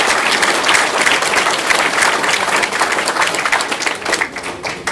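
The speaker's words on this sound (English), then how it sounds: "let's give Keith a round of applause for her" Audience applause at a Republican primary county commissioner candidate forum, a steady, dense burst of clapping that fills the room for about five seconds before starting to thin at the end.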